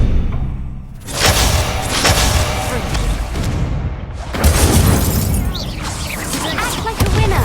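Incendio fire spell cast in Hogwarts Legacy during a combat duel, a loud whooshing burst that erupts suddenly and stays dense amid other booming spell blasts, shattering impacts and shouted voices.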